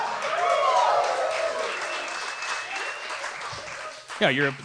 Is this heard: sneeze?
no